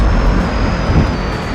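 A cruise missile in a video game drones steadily past like an airliner, a loud, close, broadband jet rush that holds for a moment with no voices.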